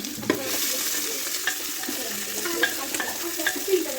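Onion and green chili frying in mustard oil with dried red chilies in a pan: a continuous close sizzle and hiss, with light stirring clinks and scrapes scattered throughout.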